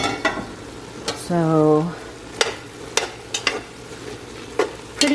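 Ground meat browns in a pan for a low-carb cauliflower lasagna, with a soft steady sizzle beneath brief speech and a few sharp scrapes and taps as it is stirred.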